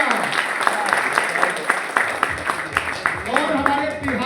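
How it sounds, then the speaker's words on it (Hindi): A crowd applauds at a leaders summit in Manali, producing brisk, scattered clapping that continues under someone speaking loudly to the room. "बहुत सही, जोरदार तालियां।"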